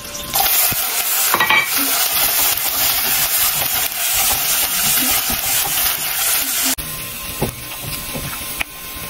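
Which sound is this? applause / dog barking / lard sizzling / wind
lard sizzling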